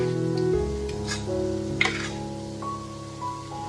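Steady soft sizzle of egg-pancake batter cooking in a pan greased with a sprayed layer of cooking oil, fairly quiet and continuous with a few faint clinks.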